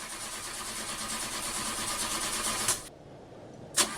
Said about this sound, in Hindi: हो गई गाड़ी स्टार्ट, क्या बात है